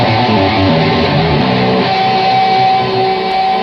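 A fast electric guitar lick plays continuously at full tempo, dense and steady, with a sustained bright tone ringing throughout.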